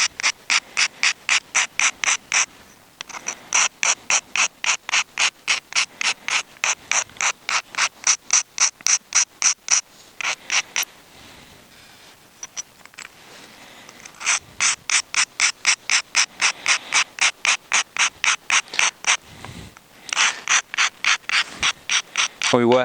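Medium-grit abrasive rubbed back and forth along the back edge of a flint knapping preform, a fast, even rhythm of close rasping strokes running in long bursts with brief pauses.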